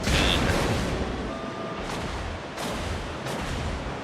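Naval guns fire during a World of Warships battle, a dense rumbling barrage with several heavy booming shots and bursts under continuous loud combat noise.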